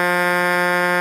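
A car horn on a vehicle at a Dodge dealership sounds one sustained, loud, buzzing blast of about a second, close by and steady.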